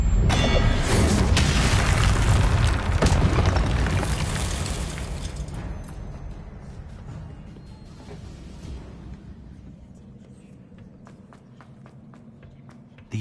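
Confringo explosion spells boom in Hogwarts Legacy on PS5, a dense, loud wash of blasts and rumbling that fills the first seconds, then slowly fades into quieter crackling debris and faint clicks, with no voice.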